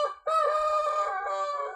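A rooster weighing about 6 kilograms crows loudly and close by, one sustained call with a short clipped start followed by a long, steady drawn-out note lasting over a second.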